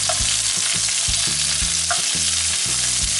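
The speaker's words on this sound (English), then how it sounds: "Sizzle is what I want." Shrimp fry in a hot pan with a loud, steady sizzle and crackle, while a utensil knocks and scrapes the pan in repeated clunks close by; no talking.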